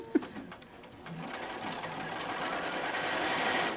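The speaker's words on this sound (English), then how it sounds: "I am sewing around the outside edge in 3/8" A sewing machine runs continuously around the outer edge of an apron fabric panel, its close, even whir building slightly louder over a few seconds after a small click at the start.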